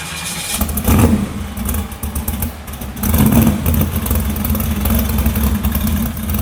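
A Chevy Nova SS pro-street muscle car's big V8 with a big cam and MagnaFlow exhaust rumbles deep and throaty, revving up twice before settling into a loud, lumpy idle nearby.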